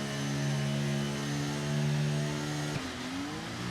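An F1 car engine in the F1 23 racing game holds a loud, steady high rev at the race start, then drops sharply in pitch as the clutch releases and it pulls away, with no talk.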